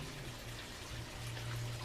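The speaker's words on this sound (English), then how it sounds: "Double waterfall right there. Waterfall over there." Water from a waterfall in an indoor fish pond splashes and trickles steadily, a soft continuous rushing with no voices over it.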